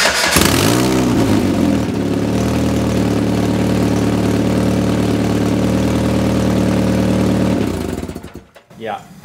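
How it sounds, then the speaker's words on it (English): DF Goblin kit car engine idling with a subtle knocking, clacking noise, a steady loud rumble with a rhythmic mechanical tick, starting with a brief rev and cutting off abruptly near the end. "You can hear a very subtle clunking noise or a knocking noise that sounded like rod knock."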